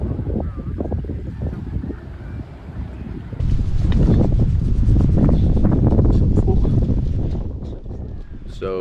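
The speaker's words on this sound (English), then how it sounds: "It's pretty cold and windy" Cold wind blowing across a fishing lake, rough low buffeting gusts that batter the microphone and swell louder midway, with a person speaking beneath it.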